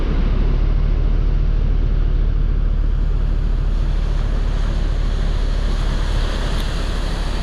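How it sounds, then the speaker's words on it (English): Rough ocean surf pounds a beach in a loud, unbroken roar of breaking waves, with heavy wind buffeting the microphone throughout and no voices. "this is probably the roughest water I've seen"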